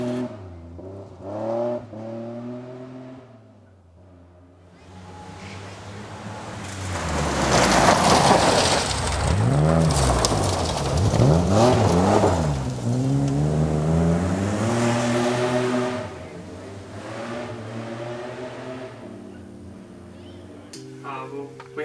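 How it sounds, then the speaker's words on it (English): A rally car on a hillclimb trial course slides around a corner and then accelerates downhill, its engine rising from a distant drone to a loud, close roar with sweeping rev changes before easing off again. "there's a big slide, and then we go around the corner and take off back down the hill again"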